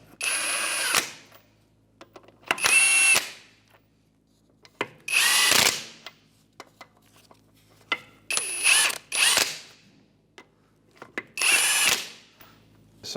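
Power ratchet snugging lug nuts on a 2011-2016 Hyundai Elantra front wheel: five separate sharp, whirring bursts of about a second each, close and loud, with quiet gaps between them and no talking.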